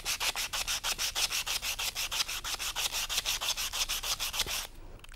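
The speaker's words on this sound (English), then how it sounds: "Let me now scrape off one of the pieces and let's see what happens." Sandpaper scrapes a dull metal piece in quick, even back-and-forth strokes, about two dozen rasping passes at close range before it stops abruptly.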